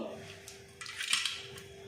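Soft metallic clinks and scrapes as a metal bowl of water is handled, a few brief clatters close by in a quiet room.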